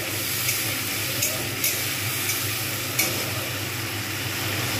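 Pabda fish with coriander-mint paste is stirred in a pan over a medium-to-high gas flame, a close continuous sizzling hiss with periodic scraping strokes of the spoon, with no talk.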